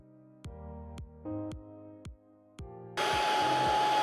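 A Proscenic P11 cordless stick vacuum cleaner switches into auto mode on a tiled floor: several short electronic tones ring out in sequence, then the motor kicks in with a loud, steady whine.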